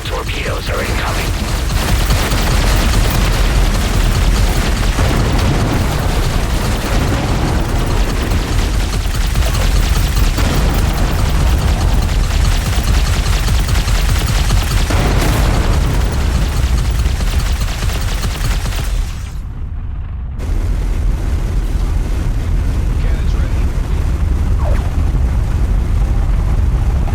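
Torpedo blasts and heavy weapons fire in the space combat game Everspace 2 pound continuously at loud, dense level, with a brief drop near twenty seconds before the barrage resumes; voices talk over the din.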